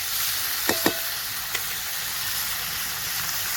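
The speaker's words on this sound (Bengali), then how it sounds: "এরপর দিয়ে দিচ্ছি হলুদের গুঁড়ো, ভালো করে মিশিয়ে নিলাম, দিয়ে একটু ভাজতে দেবো" Turmeric powder sizzles and fries in a hot pan of oil for a rohu fish curry with cauliflower, a steady soft hiss broken by a few brief clinks or stirring knocks.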